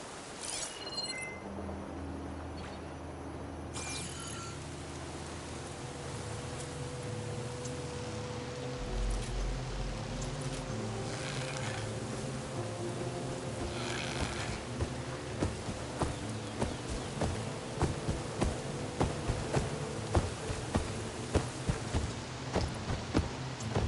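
Rain falls in the video game Horizon Forbidden West, a soft steady patter that grows denser with sharp drop ticks toward the end, alongside a low background hum and no talk.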